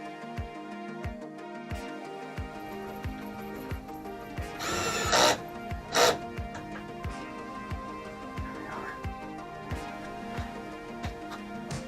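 Power screwdriver driving screws into the back panel of a shed: a steady machine whine with regular ticking pulses, broken by two loud, bright bursts in the middle as screws are driven home, fairly close.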